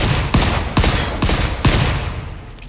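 Gunfire in the video game Volcanoids: four sharp, loud shots at a steady interval of under half a second, each with a short rumbling tail, then fading to quiet at the end.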